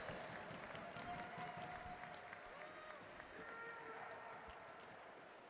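Crowd at a national track cycling championship applauds the Madison race winners with sustained, fairly distant clapping and scattered cheers that carry on steadily and fade slightly at the end, with voices mixed in.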